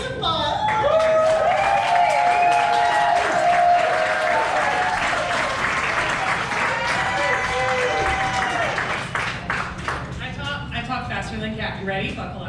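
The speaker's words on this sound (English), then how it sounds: "everyone, please applaud." A crowd at an Ignite Denver speaker night applauds and cheers loudly and steadily, with whoops and shouts rising over dense clapping, then gradually thinning toward the end.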